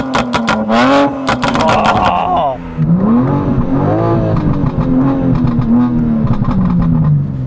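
A tuned BMW V8 with a tuned exhaust revs loud and close. The engine climbs repeatedly and bounces off a harsh soft limiter, with crackling exhaust bursts and rising, falling engine tones and no talk.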